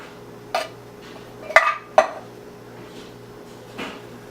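Black beans from a can drop into a metal pot, making a few sharp clanks and knocks spaced over several seconds against a quiet kitchen background.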